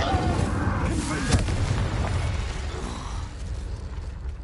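An Incendio fire spell cast in Hogwarts Legacy makes a loud, whooshing burst with a crackling rumble that stays dense and steady for several seconds.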